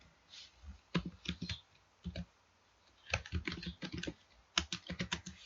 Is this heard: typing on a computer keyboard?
yes